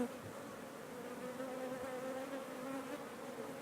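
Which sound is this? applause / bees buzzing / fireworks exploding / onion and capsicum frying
bees buzzing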